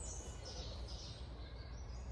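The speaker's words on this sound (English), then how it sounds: "listen to the birds" Faint, high birdsong chirps drift through a quiet woodland backdrop with a low steady rumble, distant and continuous, no voices.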